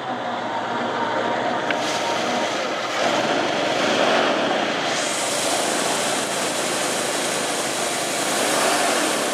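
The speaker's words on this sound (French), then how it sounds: "Et un moteur qui tourne très bien, un très beau ralenti, assez bas, doux." A car engine with its original carburettor and intake runs at a smooth, low idle, a steady even hum with no revving, heard alone at moderate loudness.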